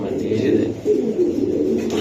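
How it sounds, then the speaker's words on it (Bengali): Racing pigeons coo in a steady, low, rolling murmur that continues throughout at close range, with faint voices mixed in beneath. "ভালো একটা বিটারের কবুতর"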